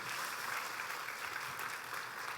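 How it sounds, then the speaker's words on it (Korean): Faint, distant clapping rises from a church congregation, an even wash of applause heard from far off that continues without a break. "우리 그 하나님께 영광의 박수."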